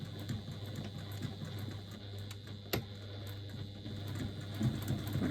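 A sewing machine stitches a bag with a quiet, steady mechanical hum and soft rapid needle ticks, close by, with one sharper click partway through.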